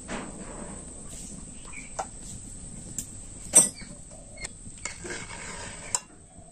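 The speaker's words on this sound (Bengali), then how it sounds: "অল্প অল্প করে লেবুর রস দেবো আর খুন্তি দিয়ে নাড়তে থাকবো, তাহলেই ছানা কেটে যাবে।" Spatula scraping and tapping against a pot as boiling milk is stirred with lemon juice to curdle chhana for rasmalai, several distinct clinks over a steady low background hiss, close and fairly quiet.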